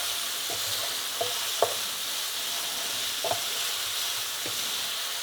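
Sausage, onions and garlic sizzle loudly in a pan as a utensil stirs them, with a constant hiss and a few scattered scraping taps.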